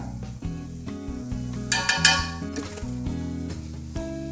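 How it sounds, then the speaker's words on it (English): Soya pulav with garam masala frying on high flame in a pan, a steady close sizzle with occasional stirring scrapes and clinks, no talking. "This stage we are keeping the flame in high."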